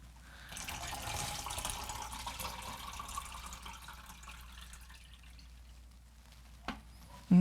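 Used photographic fixer being poured from a crusty container into a storage bottle in a home darkroom, a soft steady trickle of liquid running for several seconds before a couple of sharp knocks at the end.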